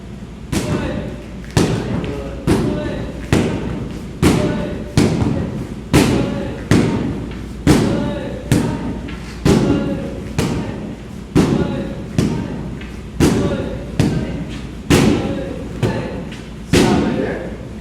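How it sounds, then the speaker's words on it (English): Round kicks land on a punching bag in a steady series of heavy thuds, roughly one per second, close and loud, with voices talking in between. "When you hit a bag and you hit something"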